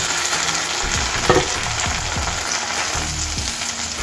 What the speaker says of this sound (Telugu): మనం పండు మిర్చి వేసాం కదా, అది పచ్చివాసన అంతా పోయే వరకు వేయించుకోవాలి